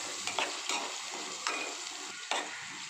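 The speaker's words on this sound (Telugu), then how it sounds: "ఇప్పుడు దీన్ని ఒకసారి బాగా కలుపుకొని ఒక 5 నిమిషాలు ఈ ఉల్లిపాయ పేస్టు బ్రౌన్ కలర్ వచ్చేదాకా మగ్గించుకోవాలి" Onion paste sizzles steadily as it is sautéed in a pan, with a few quick spoon scrapes and taps punctuating the constant frying hiss.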